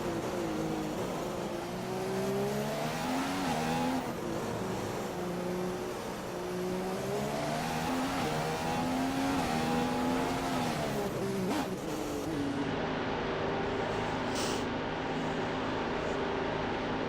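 F1 car engine in the F1 2015 racing game, a McLaren driven in a Jenson Button career in Australia, screaming close by as it revs through the gears, pitch climbing and dropping, with occasional tyre squeal.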